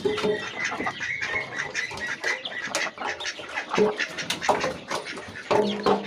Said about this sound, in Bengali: এই যে হাঁসগুলো বেরিয়ে যাবে।